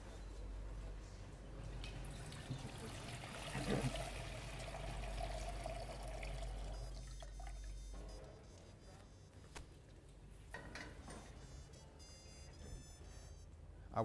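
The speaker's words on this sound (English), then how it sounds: "I'm going to add water." Water poured into a cooking pot for boiling sweet potatoes, a steady close splashing trickle that runs for several seconds and then gives way to fainter dripping and clatter.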